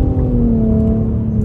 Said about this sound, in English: starting it off in first gear, we'll see the quickness of these shifts. First gear on the gas.